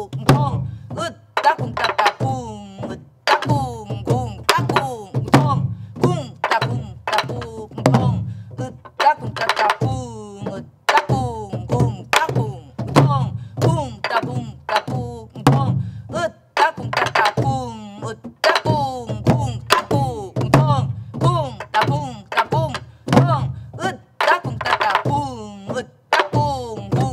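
A Korean buk barrel drum is played in the jungjungmori rhythm during a traditional gobeop lesson, with steady rhythmic strikes alternating between sharp rim cracks and deep booming head hits, close and loud throughout, with faint voices calling along.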